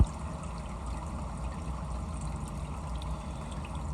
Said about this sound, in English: then I'll turn the water on